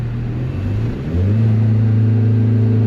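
A turbocharged Honda Civic engine pulls in third gear, its close, loud droning hum dipping briefly before settling into a stronger, steady tone as it accelerates.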